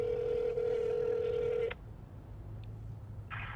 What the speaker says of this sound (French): Essaie d'appeler le numéro.